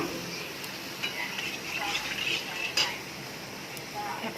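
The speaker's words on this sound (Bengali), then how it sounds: "সামান্য জল দিয়ে দিচ্ছি।" Mustard-paste fish curry bubbling in a pan with a little water poured in, soft sizzling and stirring with faint clinks of utensils against the pot, fairly quiet throughout.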